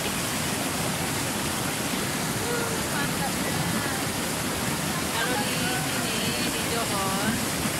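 The Bekok river in a Malaysian forest recreation area rushes steadily, a loud continuous wash of flowing water with faint higher tones near the end.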